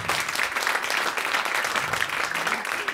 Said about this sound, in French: Kiki, qu'on peut applaudir, Kiki, très très fort.